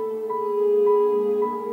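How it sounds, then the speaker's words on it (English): An ondes Martenot's sustained, wavering electronic tone glides steadily over soft orchestral harmony in music by Olivier Messiaen, smooth and singing, with a slight vibrato and no pauses. "And that sound is the onde Martenot."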